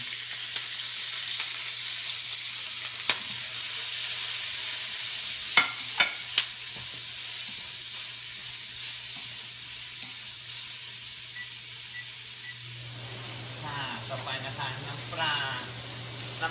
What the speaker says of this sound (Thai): พี่พิมก็จะเอาพวก อะไรพริกเลยพวกนี้นะคะ ลงไปผัดเลยนะคะ